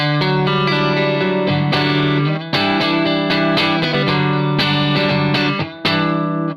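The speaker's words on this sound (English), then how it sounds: "This is the kind of clean sound I like, where it's not pristine and it's slightly more" Clean electric guitar through a Blackstar St James tube amp with a slight gritty edge, steady strummed chords ringing loud and close with a touch of chorus and reverb.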